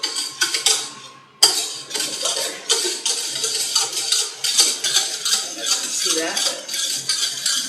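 Utensil stirring sugar in a bowl for homemade caramel, giving repeated clinks and scrapes of metal against the bowl at close range, with brief speech over it.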